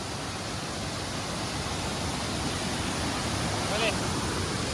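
Water pours down at a hidden waterfall in Udupi, a loud, broad, unbroken rushing roar close by that stays steady throughout.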